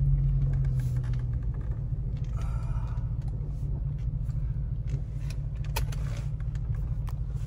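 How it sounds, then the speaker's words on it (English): A car towing a trailer through a tight turn, heard as a steady low engine rumble from inside the cabin, with a few faint clicks and rattles. "I'm gonna make this tight turn here"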